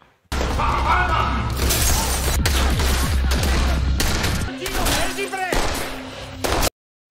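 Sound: gunfire shootout in an action film

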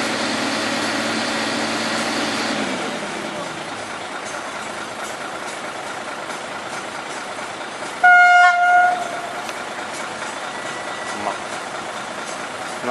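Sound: train passing a level crossing in Nola

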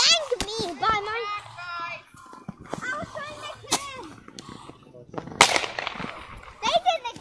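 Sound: fireworks exploding

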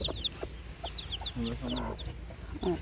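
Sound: chickens clucking

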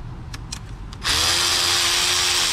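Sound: unbolting a solenoid on a Jaguar XJ engine

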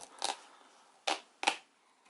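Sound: opening the box of a Razer BlackWidow keyboard

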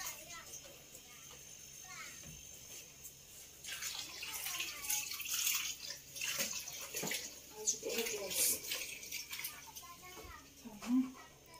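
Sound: lukewarm water being poured

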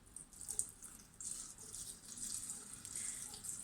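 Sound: water poured into a 5-litre jar for homemade apple vinegar

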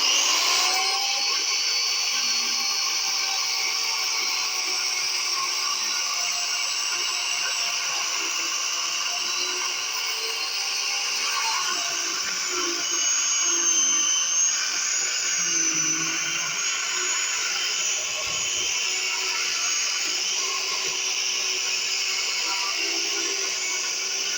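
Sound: electric chainsaw chain cutting a sawdust block

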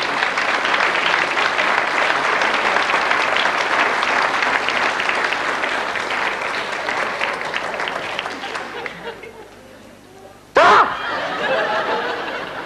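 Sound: audience applause for a TV cooking show guest

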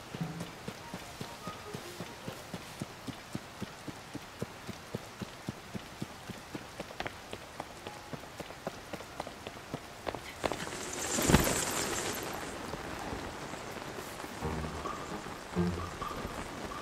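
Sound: pouring rain in video game Tears of the Kingdom

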